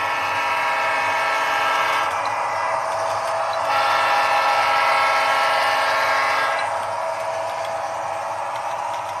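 A model train rumbles steadily past a layout train yard with auto racks while a loud train horn blares in long held blasts, rising and dropping over the running noise.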